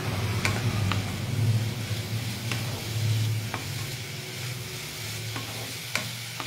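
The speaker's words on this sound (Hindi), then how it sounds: "तो इन गोज माय सॉटे वेजिटेबल्स। इसको जल्दी से सॉटे कर रहे हैं हम लोग।" Vegetables and garlic sautéed quickly in a pan give a steady close sizzle with stirring scrapes and occasional clinks, running continuously with no talk.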